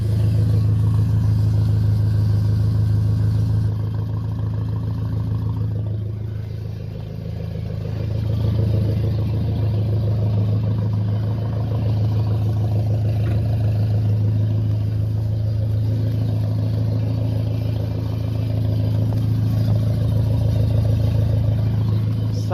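The inline-4 engine of a 1979 Chevrolet Caravan runs steadily at idle with a loud, deep rumble and some mechanical clatter, dipping briefly around the middle before settling back, heard close with no talk.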